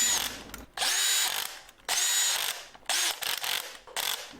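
An electric screwdriver tightens brake disc screws on a Dualtron Victor Luxury scooter, whirring in three or four short close bursts with brief pauses between.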